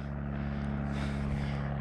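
A steady low drone of an aircraft passing overhead during snowy weather, constant and moderately loud throughout the short stretch.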